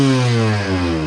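A dirt bike motorcycle engine holds a steady, loud, buzzy drone with strong even harmonics for about a second, pitch shifting slightly; no voices.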